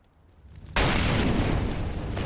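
Grenades exploding in a Counter-Strike esports match: a sudden loud blast that swells into a sustained, rumbling roar of detonation noise filling the game audio.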